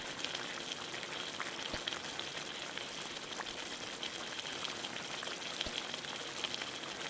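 Stock simmers in a pot with a soft, continuous bubbling and fizzing and a few sharper pops, quiet and close.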